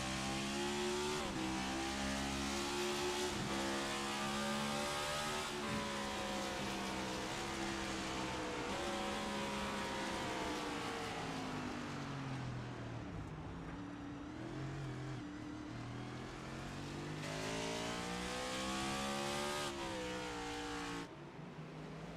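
Race cars in a racing video game at Sonoma, with engines revving loud and steady throughout, their pitch rising and falling through gear changes as cars accelerate and pass close by.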